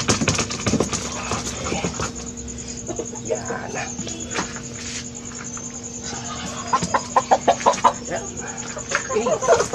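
Four-month-old Rhode Island Red chickens cluck and squawk close by on a backyard farm, with bursts of rapid calls and a steady background hum as someone talks over them.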